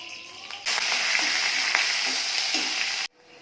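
Cumin and onion paste hit hot oil in a village kitchen pan for a country-chicken curry, bursting into a loud, steady sizzle that runs about two and a half seconds with faint stirring scrapes before cutting off sharply.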